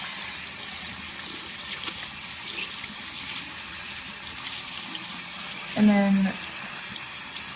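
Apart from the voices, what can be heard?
tap water rinsing out a beauty blender sponge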